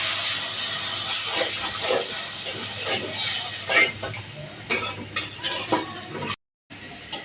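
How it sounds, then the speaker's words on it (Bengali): Spice masala with salt, turmeric, chili powder and a little water stirred and sautéed in a pan for fish curry, a steady close sizzle with repeated scraping strokes, no talking. "এখন আমার মশলাটা কষানো শেষ।"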